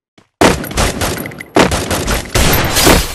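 Loud gunfire erupts in a shooting video game: three dense, sustained bursts of rapid shots, each starting abruptly and filling the sound close and harsh, with no talking.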